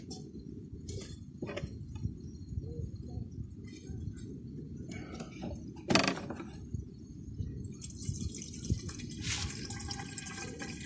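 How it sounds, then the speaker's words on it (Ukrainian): Water trickles and drips into a kettle in uneven bursts, followed by a steadier hissing flow near the end, quiet and close. "Зараз у чайник наберу собі води, щоб скип'ятити для на чай."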